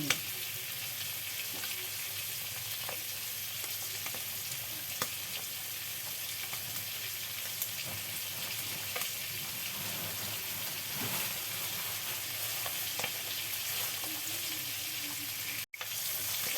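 Steady, crackling sizzle of food frying in hot oil, with faint scattered pops and clicks throughout.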